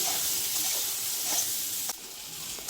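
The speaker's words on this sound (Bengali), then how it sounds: "একটু হাই ফ্লেমে রেখে ভাজলে লালচে হয়ে ভাজা হয়ে যাবে বেগুনগুলো নরম হবে না" Eggplant pieces fry in oil over a high flame, giving a soft, continuous sizzle and hiss with a few faint crackles near the end.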